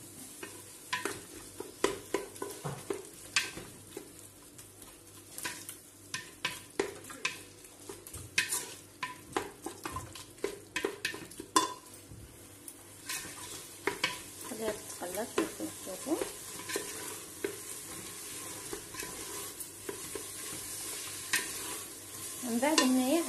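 Lamb meat fries in a pan with a soft, continuous sizzle, while a utensil scrapes and stirs it in irregular strokes throughout, with no talking.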